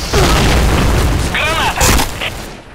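Grenade blasts in the Point Blank shooter game land as loud, booming bursts with gunfire-like cracks, set against constant game noise and a voice shouting over the action.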